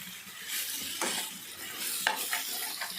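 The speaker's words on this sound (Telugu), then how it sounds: "బెండకాయలు వేసి ఒక్కసారి మళ్ళీ కలిపేసి" A spatula stirs okra with prawns in a pan, with soft scraping strokes over a light sizzle and a few faint metallic clinks.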